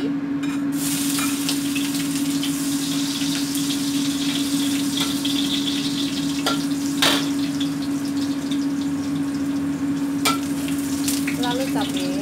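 Garlic sautés in a pan for Taiwanese-style stir-fried bitter melon, giving a loud, steady sizzle and crackle close by that lasts throughout with hardly a break.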